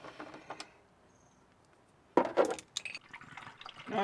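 Antifreeze poured from an upside-down bottle while working on a 1998 Jeep Grand Cherokee 5.9. A few faint drips come first, then close glugging and splashing bursts run on unevenly to the end, with no talk.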